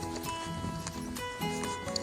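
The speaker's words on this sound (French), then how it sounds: "Allez, c'est parti, on fait un petit trot." A young foal trots, its hooves clip-clopping in a quick, uneven rhythm at close range over a couple of seconds, with faint ambient noise around it.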